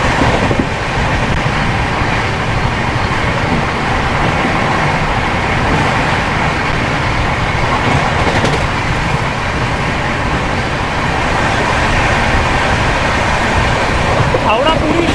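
The Howrah Puri Shatabdi Express runs at 128 km/h near Khurda Road, giving a continuous loud rushing rumble with wind-like roar that holds level throughout.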